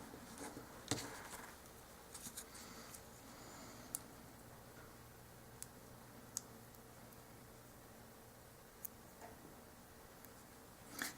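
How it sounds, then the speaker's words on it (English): A pen writing in a paper planner gives faint, sparse scratches and light ticking taps, quiet and close, with no talk. "As soon as I write down what these are."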